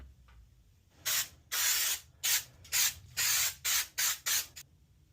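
Aerosol spray paint hisses onto a Stitch figure in eight short bursts of varying length, close and fairly loud, separated by brief pauses in an otherwise quiet room.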